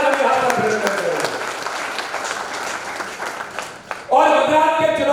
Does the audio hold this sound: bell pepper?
no